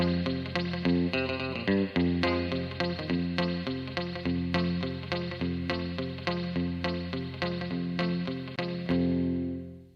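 Twangy electric guitar through a reverb tank plays in a three-string style, steady picked bass-string rhythm with washy echoing tails, close and alone, ringing out at the end.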